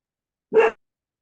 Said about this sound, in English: Sorry, my dog's a bit noisy, man.